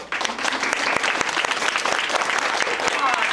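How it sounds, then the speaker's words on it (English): Applause at a church camp skit: a crowd claps loudly and continuously for a few seconds, a full, close wash of hands with some voices mixed in. "I think he deserves a round of applause,"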